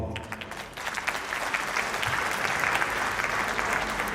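Sustained applause from a large crowd at a school motivational speech, dense and loud, continuing without a break from start to finish.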